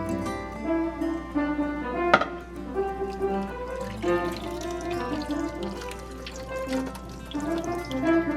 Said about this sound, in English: I'm going to get this poured over top of the turkey and then just add in the remainder of the water over